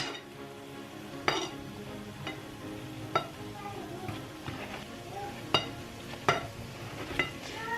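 A steady frying sizzle of Jamaican fried dumplings in oil runs throughout, with occasional sharp clinks and scrapes of a utensil against a pan.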